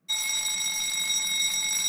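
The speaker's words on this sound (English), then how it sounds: "Oh, it's the fire alarm." A school fire alarm starts abruptly and rings at a steady, piercing, constant pitch, loud and close, with no voices over it.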